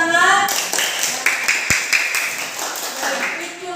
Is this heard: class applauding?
yes